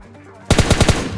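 A rapid burst of automatic gunfire in PUBG Mobile Lite, about five loud, evenly spaced shots fired in quick succession after a brief quiet lead-in.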